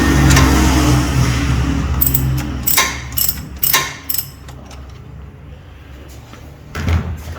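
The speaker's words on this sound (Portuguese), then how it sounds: "Agora o Adilson vai tirar o bujão." A ratchet wrench clicks in short bursts as the oil drain plug on a Toyota Corolla is loosened during a service, with mechanical clanks between the bursts and quiet pauses, up close and without talk.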